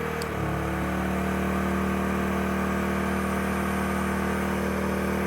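A Rato R2000iS inverter generator running right after being switched on, a steady close mechanical engine drone with a constant tonal hum holding even throughout, with no talk.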